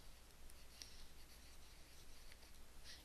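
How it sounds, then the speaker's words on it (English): A pen or marker writes across a chart in a quiet room, with a few faint, scratchy strokes. "I'm going to write flipped up here"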